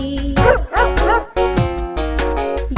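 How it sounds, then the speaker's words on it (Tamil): A puppy barks in a Tamil children's rhyme. Several short, bright barks and yips come in quick succession over a musical backing, close and loud. "லொள் லொள் நாய்க்குட்டி"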